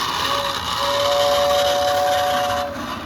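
A 1946 Lionel NYC Dreyfuss Hudson O27 toy steam locomotive sounds its whistle, a steady airy tone held close and loud for about two seconds over a constant hiss.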